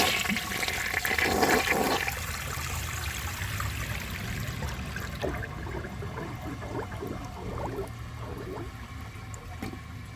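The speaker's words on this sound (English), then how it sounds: "Here is flush number 2." A 1980 Crane Radcliffe toilet flushing, a loud close gush and swirl of water for about two seconds, then fading into a gurgling drain and trickling refill, with no talking.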